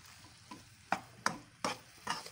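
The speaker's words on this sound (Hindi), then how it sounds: "हम इसको अच्छे से मिक्स कर लेंगे।" Seasoned meat being mixed by hand with salt and black pepper for tender pops, several soft, close squelching and scraping strokes spaced about half a second apart, no talking.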